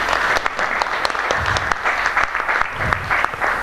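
Audience applause at an evening book-launch event in Galați, steady dense clapping filling the whole stretch at moderate loudness.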